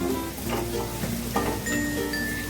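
Stir-frying of ingredients for restaurant-style chilli garlic prawns in a pan, heard as a moderate sizzle with a few distinct spatula scrapes and stirs over a steady background hum, no speech.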